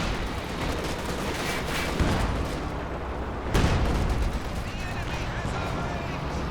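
Walking Stuka rocket barrage in Company of Heroes 2: a dense rumble of explosions and gunfire, with two sharp, heavy blasts near 2 and 3.5 seconds over continuous battle noise.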